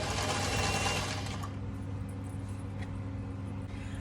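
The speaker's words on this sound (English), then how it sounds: "I'm just going to stitch this on, and I'm going to back stitch on the edges so that it doesn't try to pull out on me" A sewing machine runs continuously as it stitches a band onto an apron made from overalls, a steady close mechanical whir that is loudest in the first second and then hums on evenly, with no talk.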